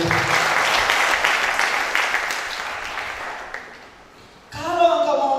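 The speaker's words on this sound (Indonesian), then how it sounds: "Berikan tepuk tangan yang dulu." A church congregation breaks into loud, sustained applause that slowly fades over several seconds before a voice speaks.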